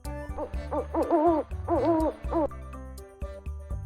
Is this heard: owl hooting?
yes